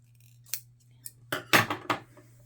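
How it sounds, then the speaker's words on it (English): Scissors snip the corners of a fabric piece before it is turned right side out for a beginner sewing cord keeper, a few close crisp cuts with a light metallic clink, over a steady low hum with no talking. "I'm going to trim the corners here."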